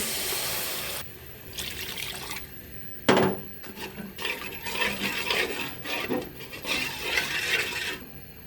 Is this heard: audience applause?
no